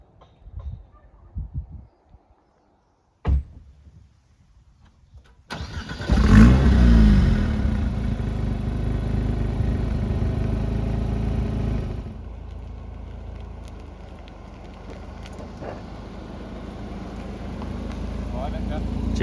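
A Renault Alpine A110 engine fires up after a few quiet clicks, then settles into a steady running idle with a short rev, heard from nearby inside or beside the car.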